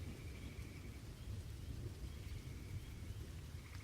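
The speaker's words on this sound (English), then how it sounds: "You guys are standing around in the rain trying to figure out how to enter the building." Steady rain falls with a low continuous thunder rumble, an even stormy wash with no voices, set outside a building in a cyberpunk tabletop game scene.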